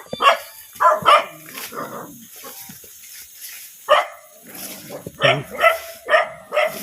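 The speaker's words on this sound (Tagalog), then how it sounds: "Tapang mga aso." Several dogs bark in short irregular bursts, some sharp and close, with pauses and a few yips between them.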